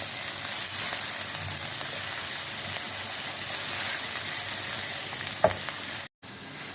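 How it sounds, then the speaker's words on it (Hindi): Egg keema with mixed vegetables fries in a pan with a dense, steady sizzle and occasional stirring scrapes, continuous and close until a brief cut near the end. "तो हमें अच्छे से भून लेना है"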